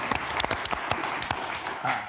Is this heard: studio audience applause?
yes